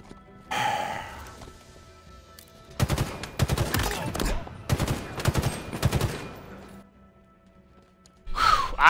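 Gunfire in the first-person shooter Halo Infinite, loud rapid automatic bursts in several runs of a second or so, up close, with a whooshing effect before them and another at the end.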